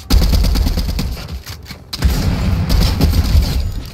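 Shotgun firing in Fortnite during a Chapter 3 match, booming blasts with loud, dense gunfire and explosions filling the whole stretch, no talk heard.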